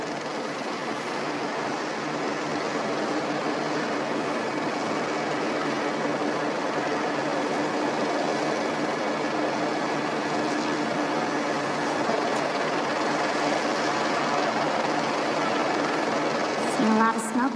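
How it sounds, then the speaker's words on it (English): A JetBlue Flight 292 airliner makes an emergency landing with its nose gear turned sideways and its wheels burning, a steady broad roar held for the whole stretch while someone talks over it. "And here it comes in now, this JetBlue Flight 292 with that front nose gear pointed sideways."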